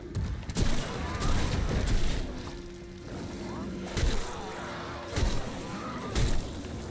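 A pump-action shotgun fires in The Callisto Protocol, a sci-fi horror video game: six or so sharp, loud blasts spaced unevenly over a steady rumbling ambience.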